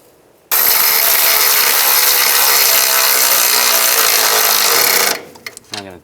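Tools tightening nuts and bolts on a lower ball joint of a 2005-15 Nissan Xterra, a loud continuous whirring, rattling burst of about four and a half seconds that cuts off abruptly into a few quieter clicks.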